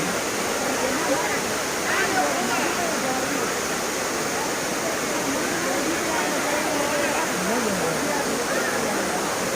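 Water rushes continuously at Kutralam waterfall in India, a steady broadband roar that stays even throughout, with voices faintly present underneath.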